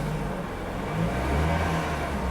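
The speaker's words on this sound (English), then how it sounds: "The engine sounds like it quieted down." 2022 Honda Civic engine running, a steady low idle hum with a slight rise, close and continuous with no voices.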